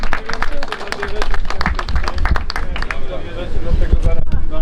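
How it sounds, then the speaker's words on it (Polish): Applause at the awards of a spinning fishing competition in Dordrecht, a crowd clapping loudly and steadily for several seconds, close by, with voices mixed in. "Wielkie brawa."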